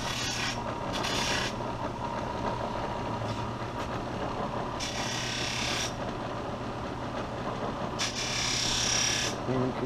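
A knife blade is sharpened on a finer-grit abrasive at a knife and archery shop, producing several separate bursts of rasping grind. A steady low machine hum sits underneath, and someone talks between the passes.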